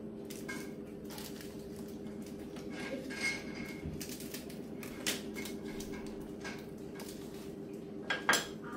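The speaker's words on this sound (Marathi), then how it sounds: "थोडी कोथिंबीर आणि मीठ, हे सगळं मिक्स करायचं." A spoon mixes coriander and salt into a corn and cheese tikki mixture in a bowl, making quiet, irregular clinks and scrapes against a faint background.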